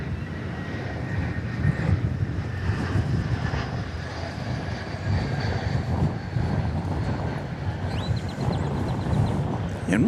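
A United Airbus A320 airliner arriving from San Francisco at DFW Airport sends a loud, sustained engine roar with a broad rumbling hiss that holds steady, with wind buffeting the microphone throughout.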